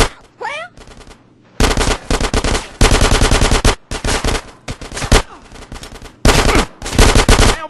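Rapid automatic gunfire in the video game GTA San Andreas during a gang fight, loud bursts of machine-gun fire with short gaps between them and no talk over it.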